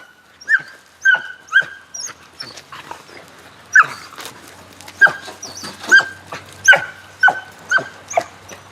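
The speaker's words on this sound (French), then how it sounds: "Donc là nous sommes en présence d'une Springer Spaniel, hein, donc, qui s'appelle Delta de la forêt" A Springer Spaniel hunting dog barks repeatedly at close range, giving about a dozen sharp yips and whimpering barks in an irregular rhythm with short pauses between them.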